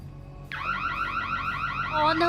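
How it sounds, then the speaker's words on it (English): A house alarm in a haunted home near Chernobyl kicks in suddenly and rings with rapid, repeating warbling electronic tones, loud and steady, swelling slightly toward the end. "with the house alarm"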